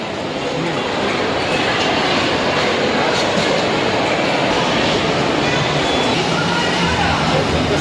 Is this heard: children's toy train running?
yes